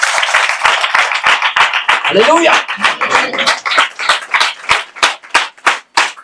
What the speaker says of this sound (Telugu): Give claps to Jesus Christ.